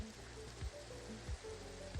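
Minecraft rain falls as a faint, steady hiss with low muted thumps recurring about every two-thirds of a second, and no speech.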